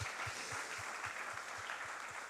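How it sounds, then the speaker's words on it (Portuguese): A church congregation at a Sunday morning service applauds in a steady, faint wash of clapping, with a regular low thumping beat running beneath it. "Pode aplaudir ao Senhor."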